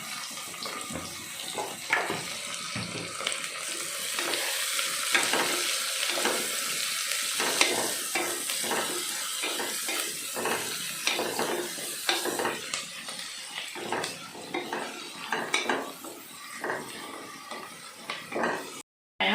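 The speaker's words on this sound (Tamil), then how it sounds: "வெங்காயம் கொஞ்சம் சீக்கிரமாக வதங்கிறதுக்கு கொஞ்சம் சால்ட்டு போட்டுக்குவோம்." Onions with salt sautéing in a pan for vegetable biryani, a steady hiss of frying with repeated stirring and scraping strokes of a spoon, close and moderately quiet, no talking.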